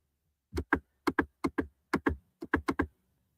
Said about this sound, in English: This keyboard is loud